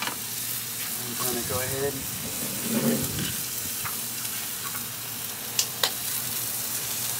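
A flat iron steak sizzles and fries steadily in a hot pan, a continuous crackling hiss close by, while a person talks briefly over it and a couple of sharp clinks ring out near the end.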